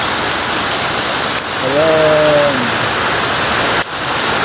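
Heavy rain pours down steadily in a dense, loud, continuous hiss, with a brief voice speaking partway through.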